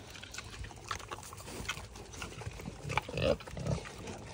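A pig grunts at close range, giving low rough snorts and snuffles that grow louder toward the end, with faint wet trickling noises underneath.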